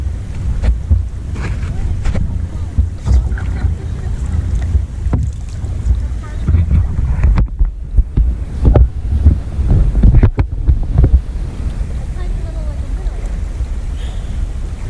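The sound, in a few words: wind blowing on a lake, wind noise on the microphone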